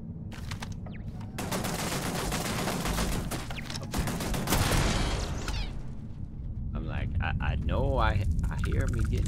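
Heavy sustained gunfire in Starfield, dense overlapping bursts and impacts that swell and then ease, with a voice speaking over the shooting near the end.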